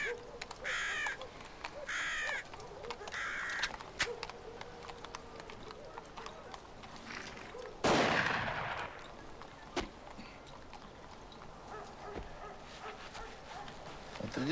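Crows caw in a repeated series at the start, then a single sharp gunshot cracks out near the midpoint and decays in an outdoor wartime field setting, with faint ambient noise afterward.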